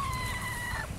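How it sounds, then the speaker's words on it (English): Chickens cluck and crow as a sound effect in a farm song, short and fairly quiet, with brief fowl calls over a soft background. "And on that farm he had some chickens, E-I-E-I-O"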